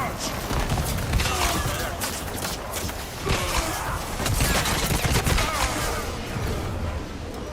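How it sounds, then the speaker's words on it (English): The Thunderbolt barrage ability in the video game Highguard, a dense, sustained stream of rapid impacts and crackling blasts at steady loudness, mixed with busy game action and heard under a talking voice. "Thunderbolt barrage!"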